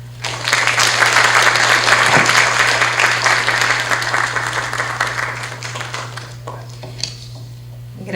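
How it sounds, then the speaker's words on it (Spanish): An audience at a diploma presentation during a criminal procedural law seminar applauds. The clapping is dense and sustained, swells quickly, then tapers off gradually over a steady low electrical hum. "Por favor, unas palmas."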